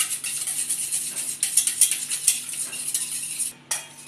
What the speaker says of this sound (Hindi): और अच्छे से फेंटेंगे।